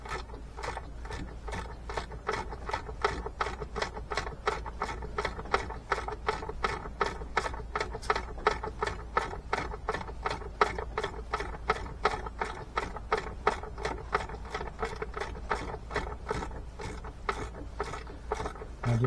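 A ratchet wrench working a bolt on an engine manifold, a long steady run of rapid, even clicking strokes, close and fairly loud, with no talking.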